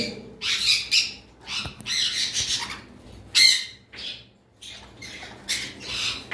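Cockatiels and conures squawking in an aviary, a series of sharp, loud bursts of harsh calls separated by short pauses, some overlapping, close by.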